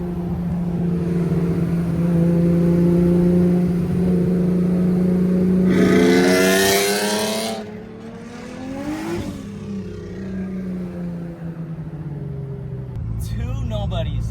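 A Honda NSX engine rumbles steadily, then revs up hard with a rising whine before easing off, with people talking over the motor noise.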